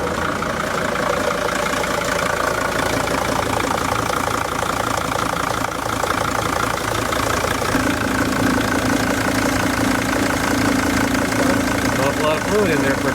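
A cold car engine idles steadily and close by throughout, with people talking over the running motor.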